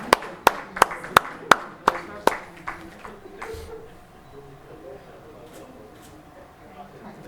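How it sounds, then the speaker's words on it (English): Seven sharp, evenly spaced claps from a small audience after a talk at a gynaecology event, close and distinct, then dying away into a low murmur of a room. "May we have a round of applause, please?"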